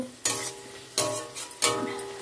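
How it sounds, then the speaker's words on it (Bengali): Chopped tomatoes stirred in a frying pan for chilli chicken: three sharp scraping strokes of a utensil against the pan, about one every 0.7 seconds, each followed by a fading sizzle, close and fairly loud with no talking. "এবার টমেটোটা কুচি কুচি করে দিয়ে এর মধ্যে নাড়াচাড়া করব।"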